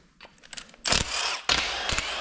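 A 1/2 inch ratchet works on the differential cover bolts of a semi-float Ford Sterling 10.25 rear axle, giving faint clicks and then two louder, rasping ratchet runs nearby.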